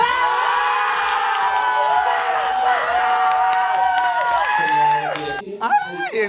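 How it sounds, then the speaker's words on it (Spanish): Studio audience at a drag show cheering and applauding for a contestant, a dense continuous crowd roar with shouts, fading near the end as voices break through. "Ahora aplausos para la señorita Amparo Banks"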